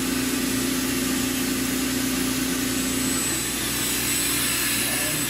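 A Walter Helitronic Mini Power CNC tool cutter grinder spindle spins at 10,000 RPM, producing a steady, loud mechanical hum with a constant whine and an even running drone throughout.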